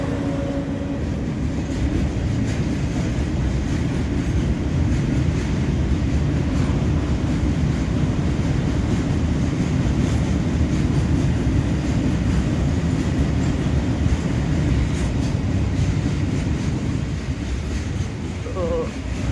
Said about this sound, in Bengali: এটাকে বলা হয় মালগাড়ি